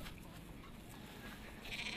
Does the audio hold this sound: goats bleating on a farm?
yes